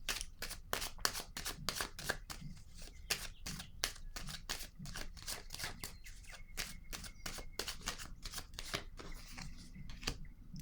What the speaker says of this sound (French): je vais déposer une autre carte sur elle